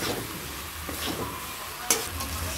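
Fried potatoes with spices are stirred in a pan for a Bengali vegetarian chhana kofta curry, giving a steady broad sizzle with soft scraping stirs and one sharp clink near the end, with no talking.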